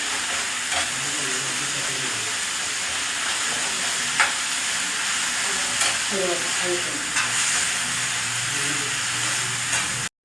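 Tomatoes cooking down in oil with salt and coriander for tomato bath give a steady, dense sizzle up close, with occasional soft stirring scrapes and a few light taps over about ten seconds. No speech.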